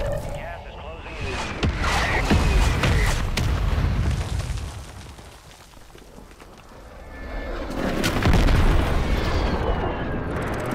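Mortar strike explosions in a shooter game: two large rumbling booms, one early and one late, with a quieter lull between them, mixed with talking voices.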